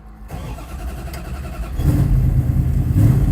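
A 1970 Dodge Challenger cranks and fires up, its engine settling into a loud, rough, close idle that swells and grows heavier toward the end, with no talking.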